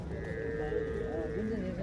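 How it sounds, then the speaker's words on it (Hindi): Mundri sheep bleat repeatedly at a busy livestock market, their calls carrying over a steady crowd murmur and nearby human voices. "अभी ये मुंदरी भेड़ें मैंने आपको दिखानी है स्पेशल"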